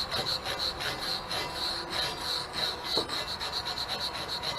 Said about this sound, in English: this is just a regular wire brush, nothing fancy.